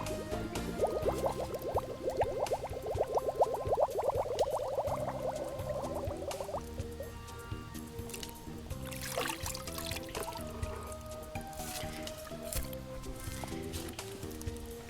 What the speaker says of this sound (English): now what I'm going to do is fill this battery up with water